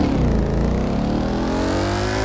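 A Ford Mustang engine in the video game The Crew 2 revs loudly and steadily, its pitch climbing smoothly, with no talking.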